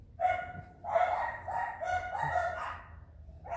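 Young rooster crowing among backyard fowl at dusk, a couple of short, thin cock-a-doodle calls at moderate distance and fairly faint, with no talking.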